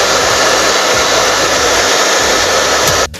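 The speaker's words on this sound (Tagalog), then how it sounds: "So, patuloy natin guys ang ating pag-hair dryer o pag-hair dryer." Hair dryer blowing steadily at close range to melt ice off the inside of a freezer during defrosting, a loud continuous whir with no pauses, cutting off abruptly at the very end.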